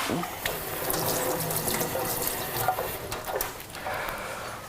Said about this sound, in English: I'm just going to give the knife a quick wash